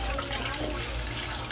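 Tap water running steadily while boiled eggs are peeled under it, a close continuous splashing rush with no talk.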